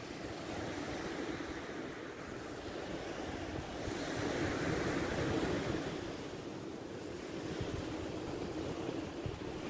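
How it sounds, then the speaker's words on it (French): Small sea waves wash onto the shore at Argelès, a steady soft surf with gentle swells and light wind buffeting the microphone, fairly quiet and with no voices. "Il y a des petites vagues."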